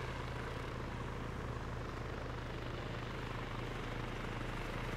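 Helicopter in the video game Arma 3, a loud, continuous rotor and engine drone with a steady low throbbing pulse that stays constant and close, no talk over it.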